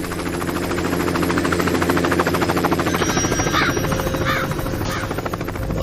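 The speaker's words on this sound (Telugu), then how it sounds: "మన ఊర్లో హెలికాప్టర్ ఏట్రా?" A helicopter flying overhead in a village film scene, a steady loud rhythmic rotor chop filling the whole stretch with no talk over it.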